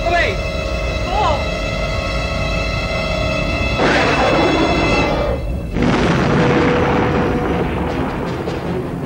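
Torpedoes detonating against an asteroid in a Star Trek film: loud, rumbling explosive bursts around four and six seconds, set over a constant sci-fi ambience with tonal effects and voices.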